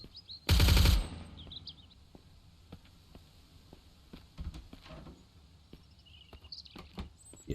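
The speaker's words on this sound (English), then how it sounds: "Those gunshots look very cool." Gunfire in the survival game Mist Survival: one loud close burst of shots near the start, then scattered faint sharp cracks and clicks in a quiet ambience.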